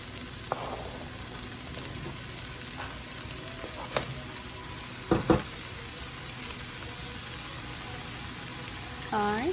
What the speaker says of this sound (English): The onions and celery are looking good, so we're going to now add in the carrots.